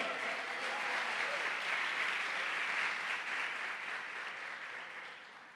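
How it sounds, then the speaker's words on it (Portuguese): A church congregation applauds continuously, a dense wash of clapping that holds steady before slowly fading toward the end. "pode aplaudir Jesus nessa noite"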